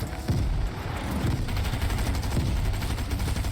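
Grenades go off amid gunfire in the video game Rainbow Six Extraction, with dense rapid bursts and booming blasts filling the moment, loud and continuous with no talk.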